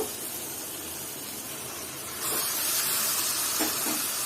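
Mutton pieces dropped into hot spiced oil while cooking mutton kosha, setting off a sudden louder sizzle that keeps hissing steadily, with soft stirring scrapes near the end.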